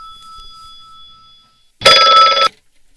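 A telephone bell rings once in a quiet room, a single loud burst of about two thirds of a second standing alone after a faint electronic tone.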